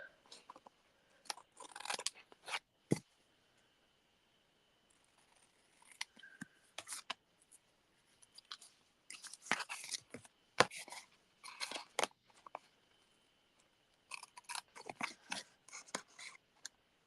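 Scissors snipping off the edges of paper scraps during card making, in repeated bursts of quick crisp cuts with short pauses between, close and fairly quiet.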